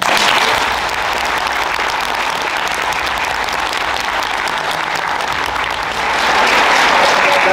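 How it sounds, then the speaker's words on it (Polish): Audience applause fills a graduation gala hall, a dense, steady roar of many hands clapping that holds loud and unbroken for several seconds, swelling slightly near the end. "Brawa dla was."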